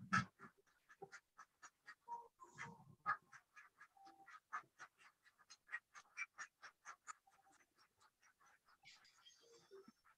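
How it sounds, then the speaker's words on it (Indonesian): A flock of ducks quacks in a steady run of loud, closely spaced calls as they are let out in the morning, with brief human voices mixed in near the start. "tiap pagi jam 8 pas mau lepas bebek"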